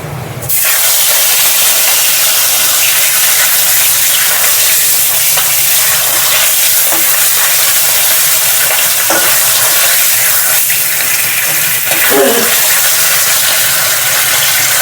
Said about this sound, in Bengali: মাছটা ভেজে নেব প্রথমে।